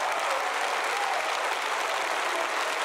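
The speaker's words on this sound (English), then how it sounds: "clap your hands, all you people" Church congregation clapping together in steady, dense applause throughout, fairly faint and distant-sounding with no voices standing out.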